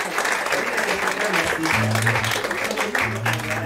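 Audience applause at a klezmer concert: a continuous, fairly loud patter of clapping from a crowd, with voices talking over it near the middle and end.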